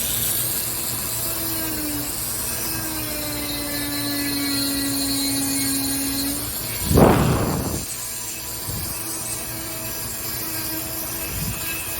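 A rotary power carving tool shapes a wood spirit face in wood, giving a steady, close motor whine. A short, louder grinding burst comes partway through, followed by a few fainter touches.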